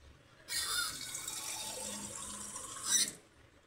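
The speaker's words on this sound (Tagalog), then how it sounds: "Lagyan natin ng konting tubig lang." A little water pours into a pan of adobo while cooking, a short close splashing stream lasting about two and a half seconds with a slight swell at the end, no talking over it.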